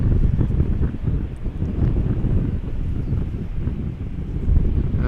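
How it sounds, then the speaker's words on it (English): Strong wind buffets the microphone at Amsterdam Schiphol Airport, a loud, continuous low rumble with gusts rising and falling throughout and no voices. "the wind is picking up"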